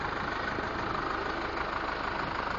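A John Deere 5225 tractor engine idles steadily and close by, a constant broadband rumble with no talk.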